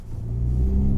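A Honda Civic Type R engine rises in a brief, close rev, a deep steady rumble building in pitch over about a second, with no talking.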